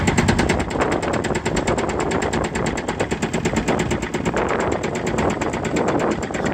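An engine runs steadily and loudly throughout, a fast even rhythmic chugging with mechanical clatter, as it is eased down toward idle; no voices.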